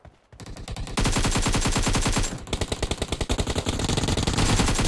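Rapid automatic gunfire in the mobile shooter game PUBG Mobile, loud and sustained with dense rhythmic bursts that briefly pause then resume.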